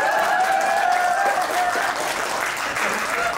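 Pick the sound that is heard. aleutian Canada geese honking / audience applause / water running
audience applause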